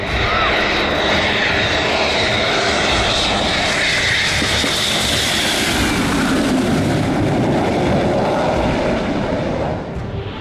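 Mirage fighter jet doing a touch and go on an expressway used as a runway, heard as a loud, steady jet engine roar that holds for most of the passage, then eases off near the end.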